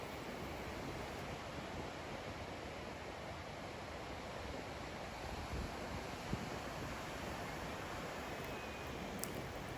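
Ocean waves wash steadily onto a long golden sand beach at Santa Cruz, Portugal, a continuous broad surf roar mixed with wind buffeting the microphone, with no voices.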